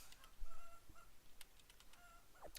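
Soft, synthetic chicken clucks from a blue chicken in the farming game Fields of Mistria come in short bursts over a quiet game backdrop, with a few brief chirpy accents.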